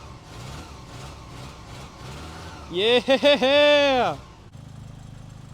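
A Ram 50 engine running rough and failing to idle, its uneven engine note heard under a man's speech and a loud shout in the middle.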